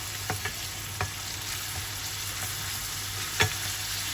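Steady sizzling of liver and heart frying in a pan, with a few soft clicks and a scrape of stirring, no talk.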